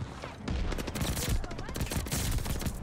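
Dense gunfire from Call of Duty: Vanguard plays as a continuous rattling barrage of overlapping shots, loud and close.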